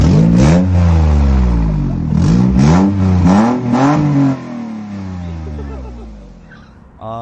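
An old off-road car with its exhaust fallen off revs hard and loud up close, the engine note rising and falling in several surges before dropping away to a lower rumble.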